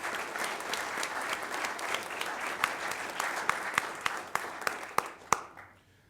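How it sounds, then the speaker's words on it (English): Audience applause at a school district Good News and Recognitions meeting, a steady wash of many hands clapping that thins into scattered individual claps before fading out. "Big round of applause."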